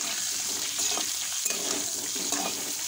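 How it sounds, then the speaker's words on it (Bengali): Eggs seasoned with a pinch of salt and turmeric sizzle lightly in oil in a pan for an egg curry, a steady close frying hiss with occasional soft stirring scrapes. "এবার ডিমগুলো হালকা ভেজে তুলে নেব।"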